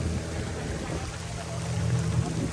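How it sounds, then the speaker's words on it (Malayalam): Heavy rain pours steadily on an island, a dense, even hiss of falling water that fills the whole moment without a pause. "ഇപ്പൊ ഭയങ്കര മഴ പെയ്യുന്നു"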